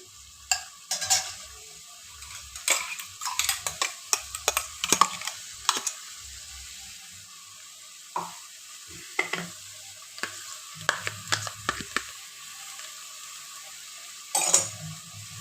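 Tomato and green chili paste fries in a pan over a high flame, with repeated scraping and clattering strokes of a spatula stirring it in irregular bursts over a soft, low sizzle.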